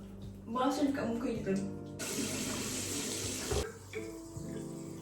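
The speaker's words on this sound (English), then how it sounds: "And then a bit of water to your face as well, okay?" A bathroom tap gushes water into a sink during a face-washing skincare routine, a loud steady rush lasting about a second and a half, framed by clattering handling noises before and after.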